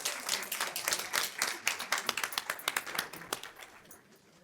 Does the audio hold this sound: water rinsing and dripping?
no